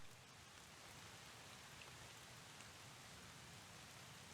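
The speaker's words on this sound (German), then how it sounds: "jetzt kommt der Regen auf einmal wieder" Steady rain in the video game Dear Esther, a dense even wash of falling drops and surface patter, quiet and continuous with no voices.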